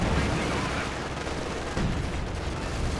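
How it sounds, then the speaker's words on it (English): Support gun fire in the World War II strategy game Company of Heroes 2 during a 4v4 match, a dense, continuous barrage of booming shots and rumble filling the whole stretch. "Was that their own support gun shooting it?"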